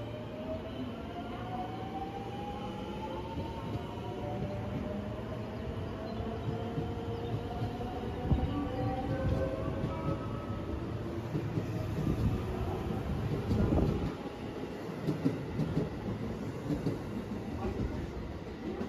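A JR Kobe Line local train at a station platform, with steady rail rumble and rising, whining electric motor tones as it moves, swelling louder toward the middle before easing, with no talking.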